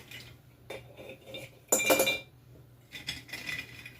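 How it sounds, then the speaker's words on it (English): Glass spaghetti sauce jar being handled close up: a few sharp clinks and knocks of glass against a hard surface, with one louder rattling clatter in the middle and quieter taps around it. "This is just a spaghetti sauce jar, but since I'm not canning, it'll be fine."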